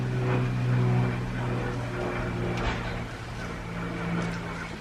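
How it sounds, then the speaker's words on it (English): A plane passing overhead gives a steady, low droning rumble that holds evenly throughout, fairly distant and with no talking. "Plane is going over."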